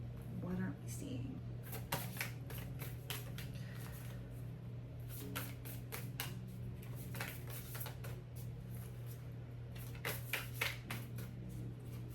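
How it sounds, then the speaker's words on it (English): Tarot cards being shuffled by hand in a series of crisp riffling bursts and soft slaps, steady hum beneath and occasional speech nearby. "I'll shuffle one more time"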